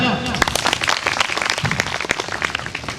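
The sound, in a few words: applause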